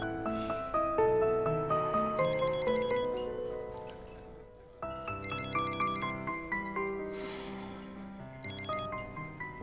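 A telephone rings with a repeating electronic melodic ringtone, bursts of bright chiming tones recurring clearly and fairly close in a quiet indoor room, with no talking over it.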